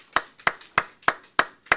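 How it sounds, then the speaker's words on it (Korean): Hands clap in a crisp, steady rhythm, roughly three claps per second, clear and close with no voices, at a church service. "하나님 앞에 감사의 박수를 드립니다"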